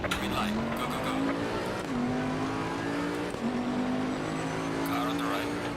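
Race cars in Assetto Corsa Competizione lapping Oulton Park, a loud, steady engine drone rising through the gears with shifts roughly every second and a half, plus tire noise from nearby cars, with no one talking.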